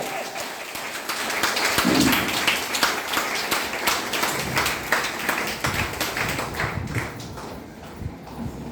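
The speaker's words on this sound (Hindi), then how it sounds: "अपने लिए जोरदार ताली" A hall audience applauds together, steady dense clapping sustained throughout at moderate loudness, with faint voices mixed in.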